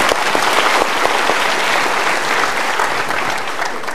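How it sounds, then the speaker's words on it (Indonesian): An audience at an Indonesian motivational talk show applauds steadily and loudly throughout, a dense, continuous patter of clapping with no break. "Kita berikan tepuk tangan."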